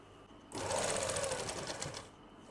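A sewing machine stitching a palazzo starts abruptly, runs in a quick, even burst of whirring stitches for about a second and a half, then stops, close and without talk.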